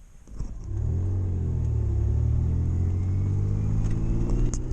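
An 80cc motorbike engine, one of a pair of small bikes on a road trip, idles briefly then settles into a steady, loud, low droning hum that holds throughout, close up with no talk.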